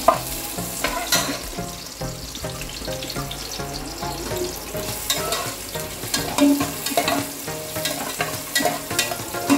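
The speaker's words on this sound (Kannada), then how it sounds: "ಮತ್ತೆ ಪಲಾವ್ ಎಲೆ ಒಂದು ಸ್ವಲ್ಪ ಫ್ರೈ ಮಾಡಬೇಕು. ಮತ್ತೆ 3 ಈರುಳ್ಳಿ ಹಾಕಬೇಕು." Bay leaf and onions fry in a pan for an egg biryani, giving a continuous crackling sizzle mixed with repeated scraping and stirring knocks from a utensil against the pan.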